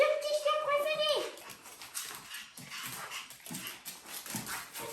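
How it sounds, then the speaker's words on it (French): Small pet dogs whimper in a high, wavering whine near the start, followed by someone talking and room noise that mask any further whimpers. "Mes deux petits chiens"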